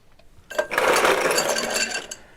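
Ice cubes clink and rattle steadily as a rye whiskey cocktail with bitters is stirred, a close continuous jingling that lasts nearly two seconds and then fades out.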